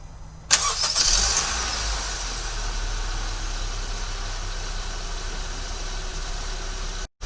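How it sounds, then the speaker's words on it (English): A 2015-2019 Honda HR-V engine starts by remote start, a sudden crank and catch followed by a steady low idle hum close by, running evenly for several seconds before cutting out abruptly. "We're going to press lock, unlock, lock. This will trigger remote starting silently."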